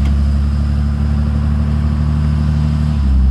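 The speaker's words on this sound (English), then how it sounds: "There went torque converter lockup." Steady, loud drone of a Cummins 5.9 diesel truck with custom tuning cruising on the road, the engine note dipping slightly near the end as the torque converter locks up.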